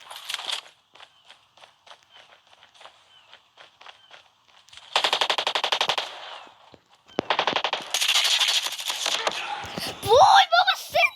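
Bursts of rapid automatic gunfire and single shots in a Call of Duty match, mixed with quick footstep clicks, some bursts loud and close, with speech heard in places.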